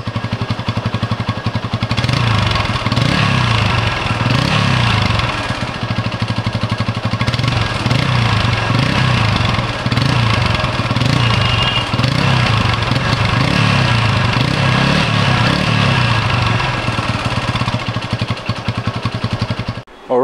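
A TVS Apache RTR 180 motorcycle idles close up with a loud, steady exhaust note and a rapid mechanical ticking from a minor clutch issue, the throb holding constant throughout.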